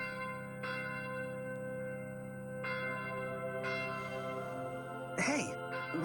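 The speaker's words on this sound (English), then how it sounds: "why are they clanging that infernal bell?" A church bell clangs repeatedly in Fire Emblem: Echoes, steady strikes ringing out over a sustained musical drone, loud and close.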